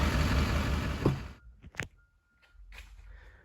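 A truck driving on a highway, heard as a steady broadband road and engine rumble for just over a second before dropping away, followed by brief knocks and a quieter stretch of road noise toward the end.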